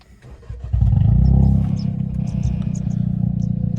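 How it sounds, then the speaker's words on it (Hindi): A tuned Hyundai i20 N Line cranks and fires up loud and close, then settles into a deep, throbbing idle. "गाड़ी अभी ऑफ है। मैं स्टार्ट कर देता हूँ।"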